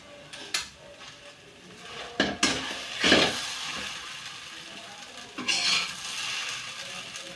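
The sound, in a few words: scooping cooked sabudana usal out of the pan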